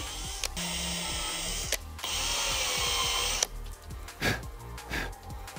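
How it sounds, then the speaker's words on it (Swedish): A power drill whines steadily at close range in two long runs, boring holes through a wooden speaker box, then stops, followed by a few clunks and handling noises. "då tar vi och borrar hålen hela vägen igenom"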